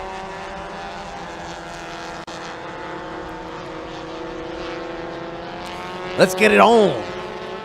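Race cars idle and roll on a formation lap at a Thailand Super Series event: a steady, layered engine drone throughout, with a louder, brief burst of revving and a voice near the end.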